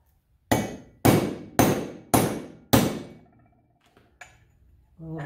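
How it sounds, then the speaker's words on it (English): A ratchet socket taps a part into a motorcycle clutch basket with five sharp, evenly spaced metallic knocks that ring briefly and sound close. A few faint clicks and handling noises follow. "Gonna take our little ratchet there, or socket, and I'm gonna tap on this."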